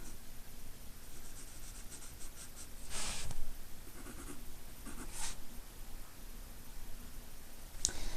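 Pencil or pen drawing a long diagonal line by hand for a one-point perspective sketch, a faint continuous scratch with a few brief louder strokes, close and quiet, no voice.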